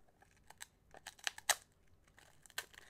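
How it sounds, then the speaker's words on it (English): Someone bites and chews a hard, crispy soy sauce and sesame snack, giving sharp irregular crunches and crackles up close, a few loud snaps among quieter crumbly bites, with no talking. "It's very crunchy, as you can hear, I'm sure."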